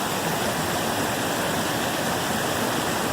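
Water in a brook rushing steadily past, a loud, dense and unbroken hiss and burble heard up close with no voices.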